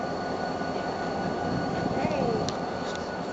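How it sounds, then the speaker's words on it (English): Conway Scenic Railroad train riding toward Crawford Notch, New Hampshire: a steady rumble of rolling cars and rails from on board, with faint squeals and clicks partway through and a voice talking briefly. "This is a train."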